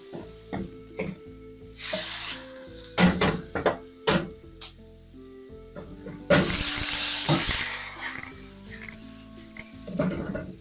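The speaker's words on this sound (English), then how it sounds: "And then we'll turn that over. And mix that in with the vegetables." Beef and vegetables for black bean sauce are stirred and turned in a hot wok, giving close, uneven bursts of sizzling and scraping that swell and fade, with no talking.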